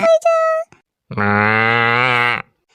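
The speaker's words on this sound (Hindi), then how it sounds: "देखा था हमार भैंसिया मार रोती है चिल्लाती है" A buffalo gives two bellowing calls: a short strained cry, then after a pause a long, loud, harmonic moo lasting over a second, close by and clear against silence.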